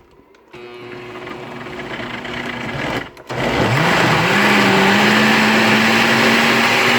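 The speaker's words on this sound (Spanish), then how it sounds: "dan hebben we nu een blender en dan willen we dat een beetje fijn maken" A blender starts up with a motor whir, pauses briefly, then roars loudly and steadily as it blends red salsa, pitch settling into a constant drone.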